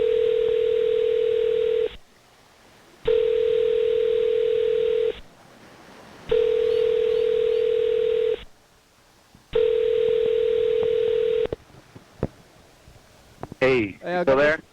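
Telephone dial tone sounds in four long, steady bursts separated by short gaps, then brief dialing beeps and a ring near the end while someone prepares to call back.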